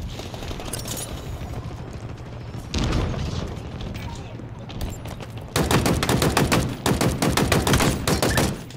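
Rapid bursts of video-game gunfire from Hi Carter Commando Challenge, sustained automatic volleys with a louder, denser barrage toward the end, heard under a player's talk.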